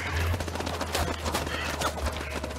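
Gunfire in the horror game House of Ashes, a rapid burst of shots with a loud low thud and crackling reports under a busy, tense game soundscape.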